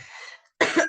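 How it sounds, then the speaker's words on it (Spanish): A teacher coughs in a couple of quick, harsh bursts close to the microphone after a short rasping breath, with a brief silence between them. "Perdón por toser"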